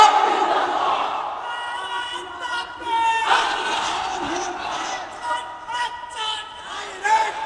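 A large crowd chanting the religious slogan "La ilaha illallah" in unison at a gathering in Bangladesh, with loud, sustained voices rising and falling in repeated waves.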